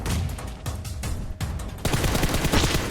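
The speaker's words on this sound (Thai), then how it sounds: "อ้าวยิงกันแล้วว่ะยิงกันแล้วว่ะ" Rapid bursts of gunfire from the battle royale game PUBG Mobile, loud and close, with dense automatic fire that swells toward the end and no talk over it.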